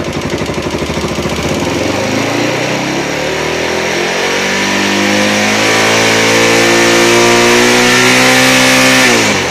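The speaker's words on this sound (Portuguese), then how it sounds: "Vou acelerar aqui, ó." A Honda NX 400 Falcon motorcycle engine idles and is then revved, its pitch climbing steadily over several seconds and holding high and loud, up close with no talk.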